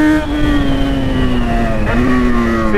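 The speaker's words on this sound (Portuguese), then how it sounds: "A moto faz barulho mesmo" A Yamaha XJ6 motorcycle revs hard outside a concert venue, its engine a loud, close, sustained whine that holds steady and then dips slightly in pitch, with no voices.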